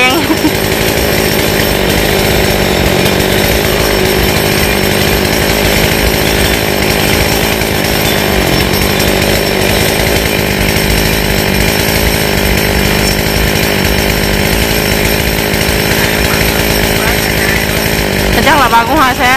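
A chainsaw cuts down a large eucalyptus tree in a cramped spot, its engine whining loud and continuous at close range, with voices heard now and then beneath it.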